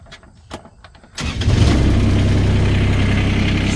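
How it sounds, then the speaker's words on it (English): A 2009 Kubota RTV900W diesel utility vehicle cranks briefly after a few faint clicks, then fires up and settles into a loud, steady diesel idle close by. "We'll get it started here so you can hear it running."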